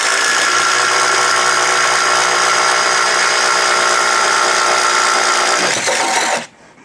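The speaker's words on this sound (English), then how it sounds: "3/4 inch Bosch Daredevil self-feeding spade bit" A cordless impact driver bores through wood with a 3/4 inch Bosch Daredevil self-feeding spade bit, a loud continuous motor whine that runs evenly for about six seconds before cutting off abruptly.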